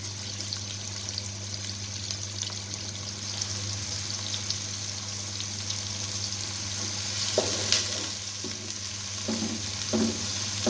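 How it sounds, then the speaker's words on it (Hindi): Onions frying in oil until brown for a chana biryani: a steady, close sizzle over a low hum, with a few clinks and scrapes of stirring near the end. "प्याज को ब्राउन होने तक फ्राई करेंगे।"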